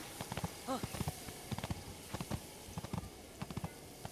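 Horse hooves clip-clop in a steady walking rhythm in the video game The Legend of Zelda: Breath of the Wild, close and clear, with a brief whinny early on.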